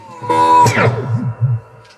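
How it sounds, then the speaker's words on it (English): A sustained guitar-like tone washed in spring reverb, its splashy, metallic tail ringing and wobbling as it decays after the note. "It's like super nice spring reverb"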